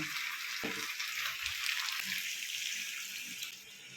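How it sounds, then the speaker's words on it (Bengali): Meat stock poured into a pan of potato and meat curry, a steady close watery pouring and sizzling wash that runs unbroken throughout with no talk. "এই যে জলটা পুরোটাই দিলাম"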